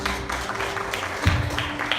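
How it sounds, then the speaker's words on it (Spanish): Church congregation applauding during a Spanish-language sermon, a steady wash of clapping throughout with a brief louder swell near the end, fairly close and filling the room. "Denle un aplauso fuerte."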